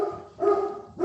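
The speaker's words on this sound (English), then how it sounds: "sorry, my dog is going crazy." During an online meeting, a dog indoors gives two short barks in quick succession close to the microphone, with a brief pause between them.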